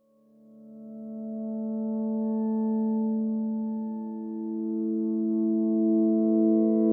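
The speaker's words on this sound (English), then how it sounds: "This is the resonant reverb on its own." Reverb from a tuned resonant impulse response, heard alone without the dry signal: a sustained, glassy cluster of harmonic tones swells in from silence, dips slightly, then blooms again and holds.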